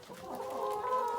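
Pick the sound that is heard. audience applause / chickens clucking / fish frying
chickens clucking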